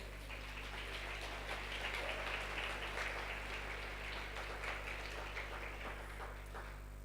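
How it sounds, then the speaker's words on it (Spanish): A church congregation applauds at a Spanish-language worship service, a steady, even wash of clapping from many hands that carries on throughout, moderately distant and low in level beneath a constant background hum. "Puede darle un aplauso al Señor por eso."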